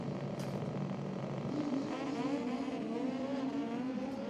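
Race bike engines rev and build to a steady, droning roar at the start line of an ET series drag race, heard from a distance and continuing without a break.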